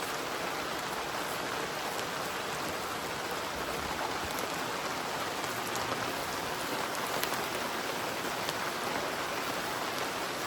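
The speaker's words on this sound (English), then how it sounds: "we're in a rain" Heavy rain pattering on a tent at a campsite, a dense, even hiss of drops drumming continuously with no voices.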